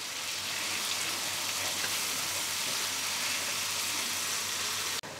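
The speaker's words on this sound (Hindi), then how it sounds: "गैस का फ्लेम मीडियम करके हम मसाले को 1-2 मिनट भूनेंगे, जब तक साइड से तेल अलग ना हो जाए" Masala spices fry in oil over a medium gas flame while making tandoori chicken at home, giving a steady, even sizzle that runs unbroken and fairly close, with a brief dip near the end.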